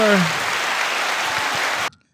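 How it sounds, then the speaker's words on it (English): Comedy club audience clapping and cheering for a comic being introduced in Memphis, Tennessee, steady dense applause that cuts off abruptly near the end, with a brief voice at the start. "they were clapping harder."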